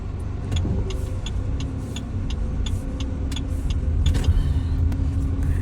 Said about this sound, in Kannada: ಇಲ್ಲಿ ನಿಂತ್ರೆ ಈಗ ಗಾಡಿ ಬರ್ತದಲ್ಲ